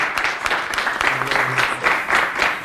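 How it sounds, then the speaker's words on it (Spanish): Applause for beauty pageant contestants at a Miss Mexico City press conference, a steady patter of many hands clapping at moderate volume from nearby. "quiero darles un aplauso otra vez"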